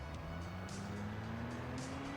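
A Ferrari engine idles and slowly revs upward while warming up in Forza Horizon 4, a steady low hum climbing gradually in pitch, fairly quiet with faint ticking above.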